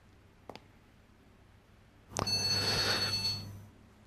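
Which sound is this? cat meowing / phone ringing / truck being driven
phone ringing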